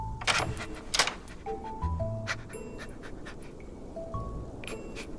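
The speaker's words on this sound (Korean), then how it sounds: "캠핑장에서 키우는 강아지야." A dog at a campsite in a video game pants in quick, breathy bursts close by, with soft musical tones sounding in the background.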